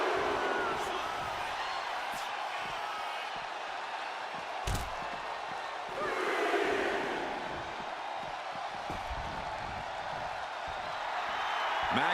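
Arena crowd in the wrestling video game WWE 2K25 roars with a steady, dense cheer that swells in waves, with a sharp slam-like hit partway through and the noise building again toward the end.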